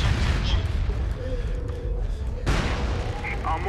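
Airstrike explosions in the video game MAG thud and rumble in heavy bursts, a loud blast near the start of the second half, with distant gunfire and voices chatting underneath.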